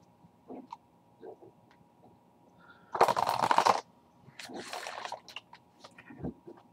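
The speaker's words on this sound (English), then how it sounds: "I just need to shuffle for a little bit to kind of wake the cards up" Tarot cards are shuffled in a quiet room: a loud riffling burst in the middle, then softer shuffles and card taps around it, close and otherwise near silent.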